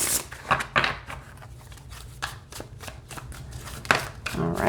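An Edgar Allan Poe tarot deck of glossy cards being shuffled by hand, close-up papery riffles and taps that come in bursts with short pauses in between.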